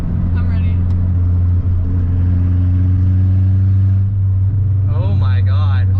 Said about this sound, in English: Oh, you can hear the turbo so well.